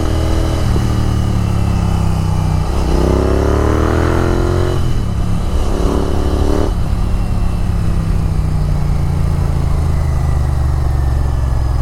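Royal Enfield Continental GT 650 with a Red Rooster aftermarket exhaust is ridden, its twin-cylinder engine droning loud and steady with a few gear-change dips and rises, close and continuous without talk.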